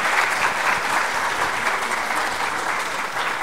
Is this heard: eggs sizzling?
no